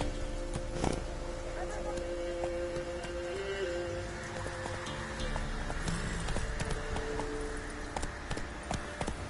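The horse Roach galloping in The Witcher 3, hooves clip-clopping in a quick rhythm over ground noise, with brief game sounds and no talk.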